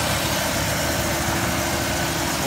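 A Chevrolet Silverado truck's engine idles steadily under a raised hood, a constant low rumble with no speech.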